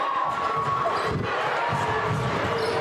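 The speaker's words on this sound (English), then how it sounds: "The crowd goes wild." Crowd cheering at a high school boys basketball state tournament game, a loud steady roar of voices from the stands filling the gym without letup.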